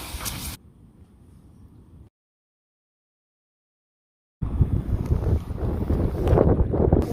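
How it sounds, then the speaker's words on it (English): Wind gusts while kayaking on the Rainy River, heard as rough, rumbling buffeting against the microphone that cuts out into silence and then returns louder and gusting near the end. "Oh my gosh, look at that wind."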